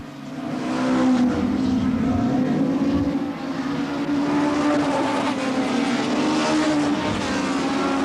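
BriSCA F1 stock cars race around an oval track at Northampton during the International Cup, a loud, continuous engine roar that swells and holds as cars drift through a bend, with a commentator's voice faintly underneath.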